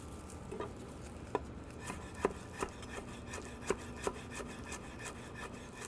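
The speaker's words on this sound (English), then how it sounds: "everything here is going to be really finely minced together, so I'm just chopping things more or less" A knife finely chopping flat leaf Italian parsley on a board, with a soft steady rubbing scrape and several sharper taps scattered irregularly, close and fairly quiet.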